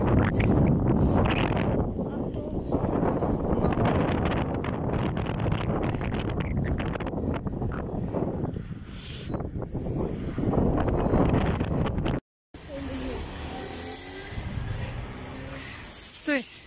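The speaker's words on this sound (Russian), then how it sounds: "Тут ветер, ребята." Wind buffets a microphone outdoors beside a church in Solikamsk, a loud rumbling roar that drowns a voice speaking under it, then cuts off abruptly and resumes more calmly.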